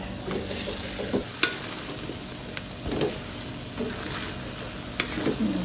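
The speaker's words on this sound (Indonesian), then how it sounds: "Jeruk pucuk ubi ataupun perkasam pucuk ubi saya gorengkan bersama dengan buah pepayang" Pickled cassava shoots (pekasam pucuk ubi) frying with kepayang fruit, a steady close sizzle with intermittent scraping stirs and spatula knocks throughout, no talking.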